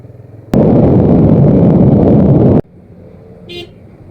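A loud car horn blasts steadily for about two seconds in traffic in Liloan, then cuts off, leaving a low engine rumble and a brief higher toot near the end.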